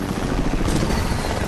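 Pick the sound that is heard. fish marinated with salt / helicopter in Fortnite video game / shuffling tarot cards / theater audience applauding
helicopter in Fortnite video game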